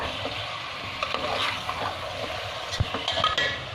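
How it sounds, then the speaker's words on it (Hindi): Steady frying sizzle over high heat as chicken stew ingredients cook, with a spoon scraping and stirring around a pan, a few sharper clinks near the end, no voices. "गैस तेज करके भून लें।"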